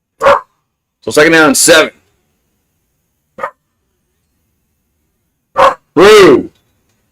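A dog gives several sharp, close barks in short bursts separated by silent gaps, and a voice speaks between them.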